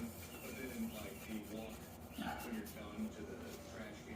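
A grease-coated electromechanical stepper unit from an EM puck bowler is wiped down with an alcohol-soaked rag, producing a steady, close rubbing and rasping sound with a background hum.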